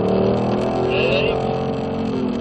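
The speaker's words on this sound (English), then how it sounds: "Car's cornering pretty good through here." A Ford Mustang corners on a wet race track, its engine note held steady and loud throughout, with a brief higher whine partway through and a voice talking over it.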